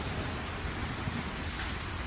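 Heavy rain pours down steadily, a dense, even hiss of falling water with a low rumbling undertone, continuous and fairly soft, with no voices.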